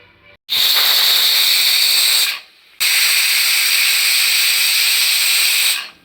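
Loud, steady steam hiss from a pressure cooker whistle while taro cooks, in two long sustained blasts separated by a brief pause, with no voices.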